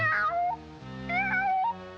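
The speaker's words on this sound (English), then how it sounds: "I'm that hungry little kitty cat you just read about." A cartoon cat from a 1941 Woody Woodpecker short meows loudly in two long, wavering, drawn-out cries, close and alone with no other sound.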